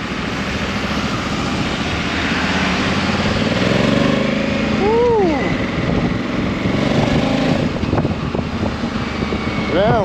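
A 2022 Honda Africa Twin motorcycle engine runs on the road with a steady drone, rising and falling as the rider works the throttle while leaving town. Wind noise runs underneath, and the engine is heard close up.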